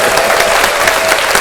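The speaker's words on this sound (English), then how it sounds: "And another round of applause for Mr." A studio audience applauds for the mayor of Gloversville, a loud, dense, continuous burst of clapping from a small crowd, brief and close.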